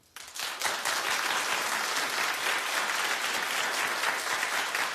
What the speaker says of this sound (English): Clap if you would watch this show, Mother-Daughter.